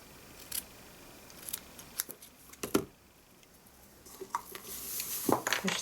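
Scissors snip paper while making an elegant gift bag, a series of quick, crisp cuts spaced irregularly, some in short clusters, close and clear in a quiet room.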